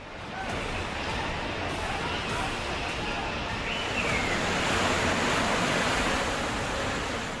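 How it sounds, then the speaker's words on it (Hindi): Monsoon flash floodwater rushing over rocks in Jammu and Kashmir during torrential rain, a loud, dense, continuous roar of turbulent water with no pauses, steady throughout and close by. "पानी के प्रहार से चट्टान टूट रही है और साथ ला रही है मुसीबत।"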